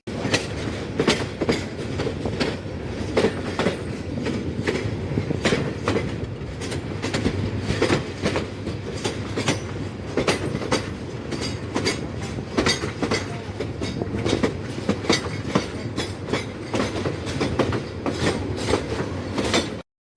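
A passenger train entering a station rumbles steadily with rhythmic clickety-clack of wheels over rail joints, loud and close throughout, no voices.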